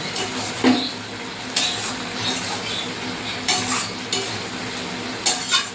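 Taro stolons stir-fried with grated coconut and shrimp, a steady close sizzle broken by repeated scraping strokes of a spatula against the pan, with a few brief clinks.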